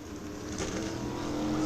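The No. 4 SMART Modified Tour race car of Jason Myers laps Florence Motor Speedway, a steady broadband engine roar at moderate distance that swells slightly toward the end.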